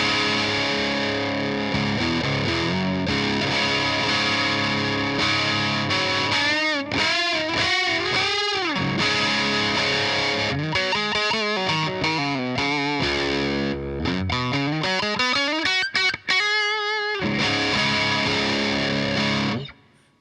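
Distorted electric guitar runs through a Boss MS3 switching two amps with a Bass Breaker engaged, playing loud sustained chords and bending lead lines with chorus-like shimmer, ending in a sudden stop.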